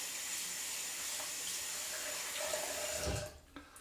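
A bathroom tap runs steadily in a sink as shaving lather is rinsed off, a close and even hiss of water that stops abruptly near the end, followed by a faint knock.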